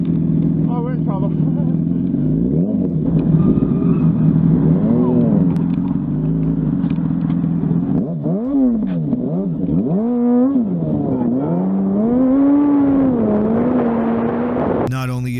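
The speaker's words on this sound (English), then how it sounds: "No matter how hard he revs the engine" A stolen motorcycle fleeing police, its engine revving loud and close, the pitch sweeping repeatedly up and down as the throttle is worked over a steady mechanical drone.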